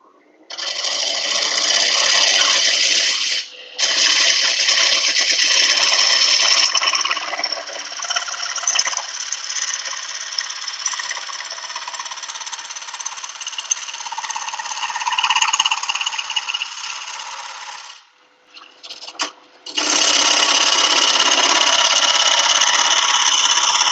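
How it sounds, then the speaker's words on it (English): A bowl gouge making a finishing cut on wood spinning on a lathe, a loud, sustained, close tearing hiss broken by a few brief pauses where the tool lifts off. "I'm going to take my bowl gouge and make a final pass, just to make sure it's a cylinder"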